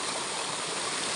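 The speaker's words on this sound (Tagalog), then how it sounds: "Nag-aapaw ang tubig." Overflowing river water at a swimming spot rushes in a steady, dense broadband wash, close and continuous through the short moment with no voices.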